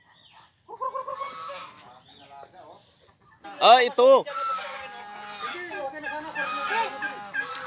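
Native chickens cluck and squawk nearby, with a couple of sharp loud squawks in the middle, while people talk over and around them.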